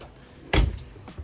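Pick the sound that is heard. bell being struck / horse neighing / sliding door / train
sliding door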